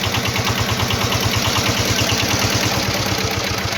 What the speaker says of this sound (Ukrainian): Дивіться, він працює в режимі генератора